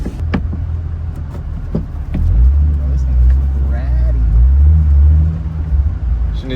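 A Toyota Supra Turbo engine runs with a deep, low rumble heard from close by, its note shifting and swelling as gears are changed, with a person talking over it.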